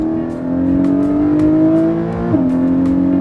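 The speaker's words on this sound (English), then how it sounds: "this car does sound pretty good. I mean, after all, it's a naturally aspirated, big capacity engine" A Porsche Cayman GTS with a naturally aspirated, big-capacity engine holds a steady, loud engine note up close, rising slightly in pitch before dipping briefly as the revs shift.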